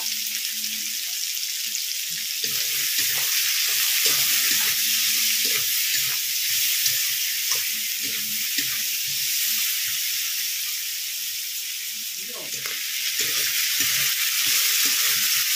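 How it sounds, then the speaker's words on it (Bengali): Cheetah crab seasoned with salt and turmeric frying in hot oil in a pan makes a loud, steady, close hiss and sizzle, with faint low clinks and stirring beneath it and no talk. "তেল গরম হয়ে গেছে, এখন কাঁকড়াটা ভেজে নেব।"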